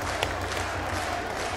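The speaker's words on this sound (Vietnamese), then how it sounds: "Khán giả cho tôi thêm một tràng pháo tay." Spectators at a Vietnamese folk wrestling event give a brief burst of steady applause, a dense crowd wash at moderate volume with a low hum beneath.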